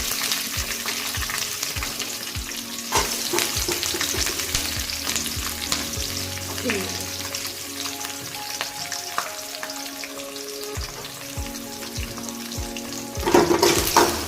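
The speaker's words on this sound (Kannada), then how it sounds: "ಇಷ್ಟನ್ನು ಹಾಕಿ ಚೆನ್ನಾಗಿ ಫ್ರೈ ಮಾಡೋಣ" Curry leaves and onion frying in a pan give a steady close sizzle with stirring scrapes and clicks throughout, swelling louder near the end.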